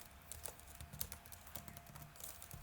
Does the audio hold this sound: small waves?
no